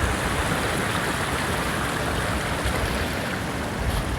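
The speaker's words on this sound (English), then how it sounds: "Oh yeah, that water's real fast." Fast-flowing mountain stream water rushing along a hiking trail, a steady dense broadband roar that stays close and even throughout, with no voices.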